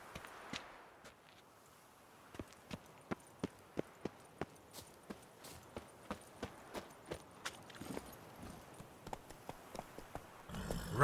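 Hooves of the horse Roach pound in steady, evenly spaced clip-clops in The Witcher 3: Wild Hunt – Blood and Wine, about a dozen and a half sharp beats at a gallop over quiet ambience, ending in a louder burst.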